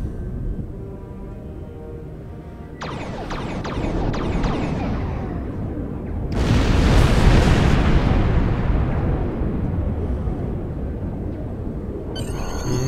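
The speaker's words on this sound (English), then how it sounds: "Orbital bombardment." Orbital bombardment in Star Trek Online lands as a chain of heavy explosions, a rumbling barrage that builds into a loud, sustained roar near its middle before easing, with no talk.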